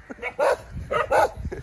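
Settlement dogs on the attack bark sharply in several quick bursts, close and loud, with a faint voice in the background.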